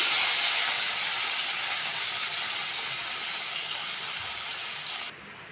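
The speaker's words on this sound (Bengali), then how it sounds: "এবার আমি মাছগুলোকে প্রথমে ভেজে নেব।" Rohu fish frying in hot oil in a kadai gives a loud, steady hiss and sizzle that holds evenly for about five seconds, then drops off abruptly near the end.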